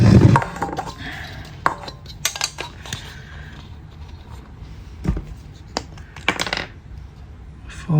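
A coke can is cut open to make a DIY camping lantern, giving sharp metallic clicks, snips and thin aluminium crinkling scattered across the clip at close range, with quiet handling noise between them and no talking.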